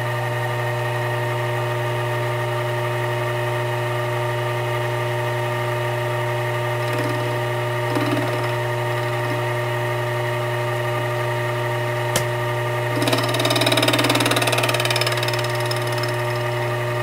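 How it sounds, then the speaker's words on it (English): A metal lathe runs with a steady mechanical hum while a carbide tool faces off the end of metal stock, with brief cutting scrapes and chatter near the end, close and fairly loud. "I will start up the lathe and do the face-off movement on the end"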